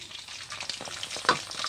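Chicken 65 fries in hot oil, a close, steady bubbling sizzle with a brief sharper crackle partway through and no talking.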